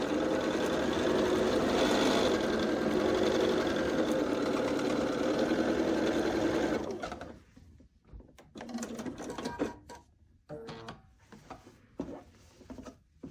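Sewing machine stitching quilt pieces for a queen-size pinwheel quilt, running in a steady loud mechanical whir for about seven seconds, then stopping and giving way to scattered handling clicks and rustles of fabric.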